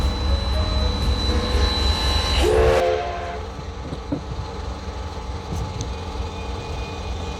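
A Cumbres and Toltec scenic railroad train departing in arid, flat country, with a steady loud rumble and a high sustained whistle that fades out, then a quieter rolling clatter with occasional clanks.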